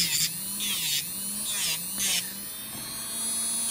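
A Medenia New Touch electric nail drill (e-file) whirs steadily at high speed, its pitch wavering slightly as it files, with brief scratchy bursts of contact; close and continuous, no talking.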